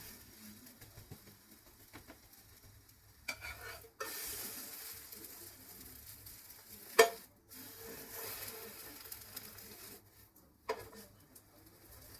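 French toast frying in a pan over a medium flame, a quiet, steady sizzle with occasional scraping and stirring as the slices are moved around and flipped, with no talking.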